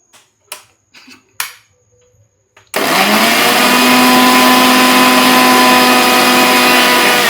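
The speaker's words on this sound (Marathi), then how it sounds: "आणि मिक्सरला बारीक करून घ्यायचे" A mixer grinder grinds roasted sesame seeds for modak: a few light taps, then a loud, steady, close motor whir with a rough grinding rasp that runs to the end.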